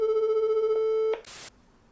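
A telephone ringback tone on a call to Santa's 3630 number: one steady electronic ring tone lasting about a second, then a short click and a brief burst of line noise, with no talking.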